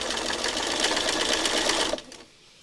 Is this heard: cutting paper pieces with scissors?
no